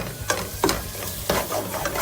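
Cashew nuts sauté in a pan over a low flame for a navratan curry, a soft continuous sizzle broken by several scraping stirs, close and moderately loud with no talk.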